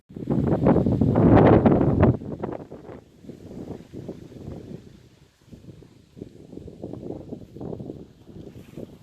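Gusty wind buffets the microphone in rural Elazığ, Turkey, loud at first and then easing into uneven, rumbling bursts that come and go.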